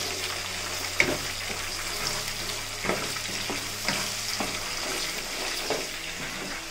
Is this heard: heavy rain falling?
no